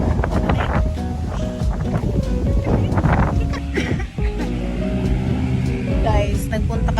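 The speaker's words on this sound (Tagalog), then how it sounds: "Super hangin!" Strong wind blows outdoors, buffeting the microphone with loud gusty roaring throughout, mixed with voices talking over it.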